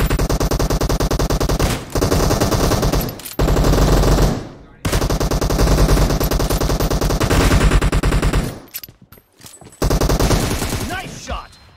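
Heavy automatic gunfire in a battle royale game, loud sustained bursts of rapid shots broken by short gaps, close and dominant throughout.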